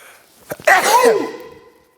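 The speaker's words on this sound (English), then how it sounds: "I'm about to sneeze." One loud sneeze close by, with a couple of quick sharp breaths beforehand and a trailing exhale afterward.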